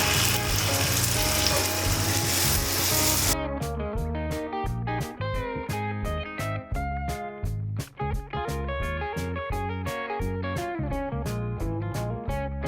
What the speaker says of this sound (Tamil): புசு புசு சோள பணியாரம் எண்ணெய் ஊற்ற